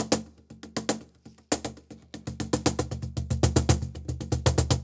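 A wooden cajon is struck by hand in quick bursts, then a steady run of crisp slaps with deep bass thumps, close and dry, each hit sharply defined and varying in depth.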